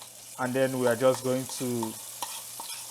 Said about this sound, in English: just as if we're trying to fry it, but not really frying it, just mixing it up with the oil